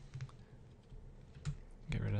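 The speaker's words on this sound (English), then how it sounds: "You can start typing a name here if you wish" A computer keyboard is typed on in light, irregular keystrokes, close and fairly quiet, with a low voice and background noise underneath and a louder thump near the end.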